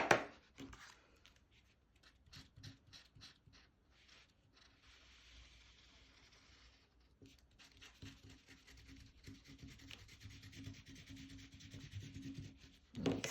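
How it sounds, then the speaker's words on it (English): Crystallina glitter is sprinkled and worked along a card border, giving soft, close rustling and grainy rubbing with scattered light taps, quiet throughout. "we're going to take that Crystallina glitter and we're going to sprinkle it over the top"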